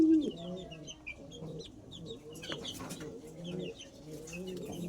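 Racing pigeon hens coo softly in a loft, with repeated low burbling calls and a few higher chirps overlapping at close range. Faint talk and movement are heard underneath.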